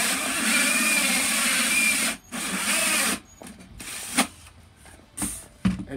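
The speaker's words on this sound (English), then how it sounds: "drill it back through" A hole saw drilling through a wooden bed platform in a shuttle bus conversion, steady loud grinding for about two seconds, a brief pause, another burst, then scattered clunks and short bursts as the bit is worked back through.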